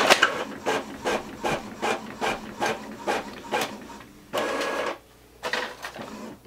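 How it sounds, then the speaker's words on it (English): An Epson EcoTank ET-2720 inkjet printer prints a test page, producing a quick series of rhythmic rasping passes about twice a second, then a longer whirring stretch and a final burst, close and fairly quiet. "Now we're gonna print up pages."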